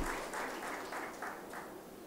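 An audience at a Marathi political speech applauds steadily, a dense wash of many hands clapping at a fairly even level for about two seconds, with no voice over it.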